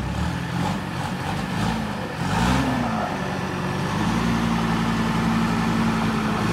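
A diesel tractor engine runs steadily close by, briefly revving up and dropping before settling into a loud, even drone.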